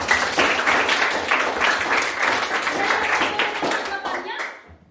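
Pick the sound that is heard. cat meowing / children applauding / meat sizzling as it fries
children applauding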